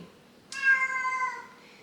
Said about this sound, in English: that's my kitty